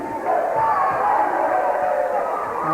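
A crowd cheering and roaring steadily at a 1989 girls' high school basketball game between the Cougars and Plattsburgh, a sustained loud wash of voices with no pauses.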